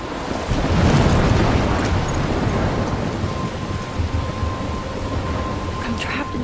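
Thunderstorm in the video game Life is Strange: a steady, loud roar of wind and rain fills the whole stretch, with a low rumble swelling early on and a faint tone entering partway through.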